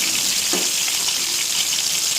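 Eggs frying in a pan give a steady, close sizzling hiss throughout, with a brief soft clatter of stirring near the start.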